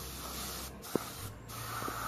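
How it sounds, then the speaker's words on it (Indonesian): A spray gun lays a thin brown base coat onto a wood-look interior trim panel from a Kijang Innova car, a quiet, steady airy hiss broken by two short pauses. "kita semprot secara tipis-tipis warna dasarnya"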